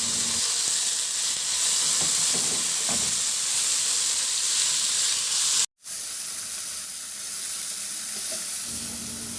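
Sliced onion and tomato sizzle and fry steadily in a hot pan, a dense continuous hiss with occasional stirring, briefly cut by a short silent gap before the frying resumes.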